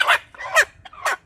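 Naked Neck rooster of a native village breed giving a few short clucking calls, three bursts in quick succession, close and fairly loud with no talk.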